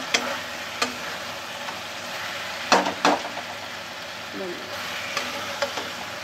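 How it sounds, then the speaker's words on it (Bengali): Spice masala frying in a pan for a Bengali fish curry with cauliflower and potato, giving a steady low sizzle with a few sharp scrapes and clinks of stirring, close and moderately loud, with no talk. "মশলাটা একটু ভাজি"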